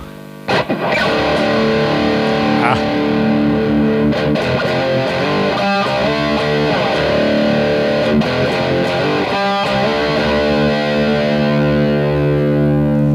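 An electric guitar, down-tuned, played loud through a germanium treble booster pedal into a Marshall JMP amp, with a bright, crunchy boost, ringing chords and gritty sustained notes that swell and decay.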